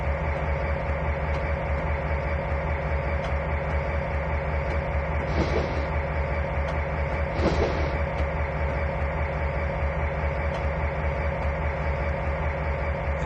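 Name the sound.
train running on rails in Trainz 2019 video game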